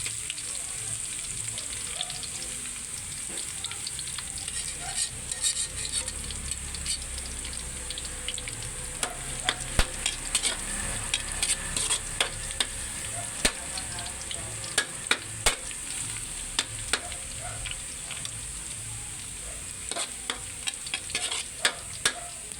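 Pansit bihon ingredients frying in a pan until golden brown, a steady close sizzle with scattered sharp crackles and pops throughout, no voices.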